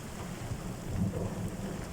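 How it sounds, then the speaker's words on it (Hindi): Heavy rain drums on the outside of a car parked at Mangla Dam while thunder rumbles low, both heard from inside the car as a muffled, steady wash with no voices. "हम इस टाइम गाड़ी के अंदर बैठे हुए हैं और बड़ी तेज़ बारिश हो रही है बाहर।"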